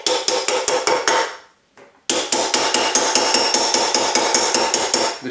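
Repeated metal hammer blows on a silver cuff held on a steel cuff mandrel, struck in a steady, close, ringing rhythm with a brief pause before the strikes resume.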